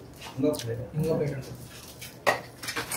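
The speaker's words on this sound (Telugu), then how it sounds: "ప్లేట్ ఒకటి తీసుకోమ్మా. ప్లేట్ ఒకటి తీసుకో. ఇంకో ప్లేట్." Plates being picked up and handled, with a few close clinks and clatters of dishes heard between people talking.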